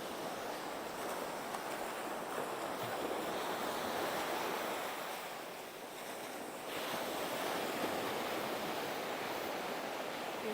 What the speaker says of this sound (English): Waves are not too big though now